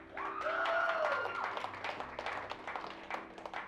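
Church congregation clapping during a Sunday service, a dense spread of hand claps that swells early then thins into scattered, uneven claps, with a faint tonal whistle or voice glide near the start.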